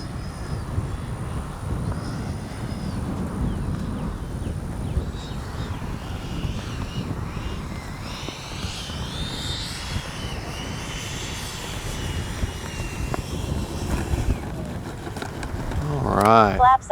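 A Freewing 90mm F-22 RC jet with gear and flaps down comes in to land, its ducted-fan whine steady under wind noise and someone talking, rising to a louder rush at the very end.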